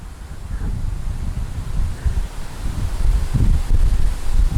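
Wind gusting outdoors, a steady low rumbling roar buffeting the microphone for several seconds, with no voices.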